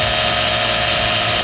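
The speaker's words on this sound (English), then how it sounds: "I'm using my 1/8 inch drill bit and I'm trying to center it as best I can." A power drill fitted with a 1/8 inch bit bores a pilot hole in a Toyota Tacoma pickup bed, giving a steady, close, high whirring grind with no talking.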